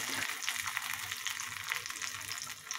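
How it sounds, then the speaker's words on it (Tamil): Mustard seeds crackle and splutter in hot oil, a dense continuous sizzle with small pops throughout, steady and close, with no voices. "கடுகு பொரிஞ்சிருச்சு"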